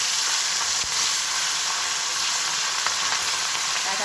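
Hilsa fish frying in hot oil in a wok makes a loud, dense, even sizzle close by, broken only by a couple of faint clicks, with nobody speaking.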